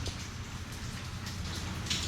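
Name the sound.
rain falling outdoors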